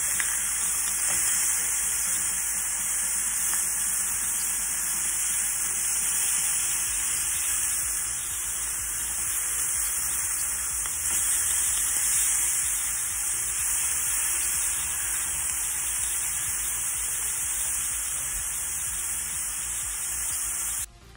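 A homemade burger patty sizzles steadily in a pan after being flipped, a continuous close frying hiss running unbroken throughout.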